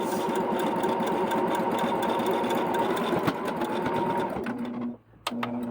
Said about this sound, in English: I'm using a 3 width and a 2 length for my zigzag on my Baby Lock Jazz.